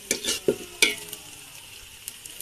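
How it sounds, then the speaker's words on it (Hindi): Onions frying in a pan for a home-cooked chicken dish, giving a few short scraping stirs and sizzling bursts up close over a faint, steady background hiss. "देखिए दोस्तों, प्याज भूज रहा है पूजा जी।"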